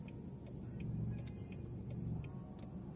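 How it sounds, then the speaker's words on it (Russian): A jeep pulls out and drives past during a driving lesson in Khabarovsk, a steady broadband vehicle rumble with no clear pass-by swell, faint ticking like a turn signal repeating throughout. "Сейчас выезжает джип,"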